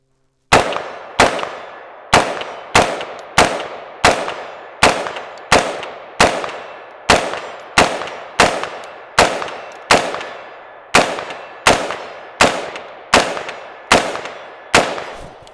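An Inter Ordnance AR-15 rifle fires about twenty sharp, loud single shots at a steady, fairly quick pace, each crack ringing out and decaying in open air, with one brief pause midway. Nobody talks.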